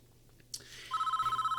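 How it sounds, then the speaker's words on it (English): In the prison management video game Prison Architect, a telephone rings in a rapid, even electronic pulse. It starts after a short soft click and keeps going without any talk. "we have a phone call from the CEO"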